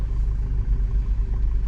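Steady low rumble of street traffic with idling and passing car and truck engines, continuous and moderately loud throughout with no voices.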